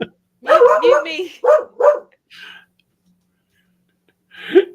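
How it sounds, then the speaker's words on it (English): A dog barks close by in a quick burst of several loud barks with brief pauses between them, then one more bark a couple of seconds later, and people talk around it. "That's a bark for Iridia."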